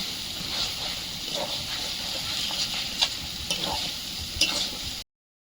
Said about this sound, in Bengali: মশলাটা দিয়ে দেবো ভালোভাবে মিশিয়ে নেব